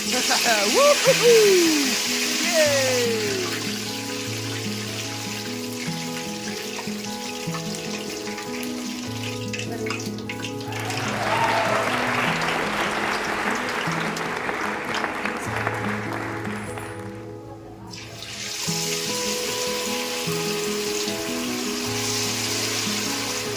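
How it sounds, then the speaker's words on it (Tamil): Chicken leg pieces fry in hot oil for chicken chilli, a dense, bubbling sizzle that swells and fades under a background musical loop, heard up close. "சில்லிக்கு எண்ணெய் சூடாயிடுச்சுங்க. இப்போ நம்ம முதல்ல லெக் பீஸ் போட்டுக்கலாம்."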